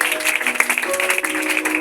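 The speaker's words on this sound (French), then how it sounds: "Acclamons pour le Seigneur." Church congregation clapping in praise, a steady dense patter of many hands sustained throughout, with tonal sounds ringing faintly beneath.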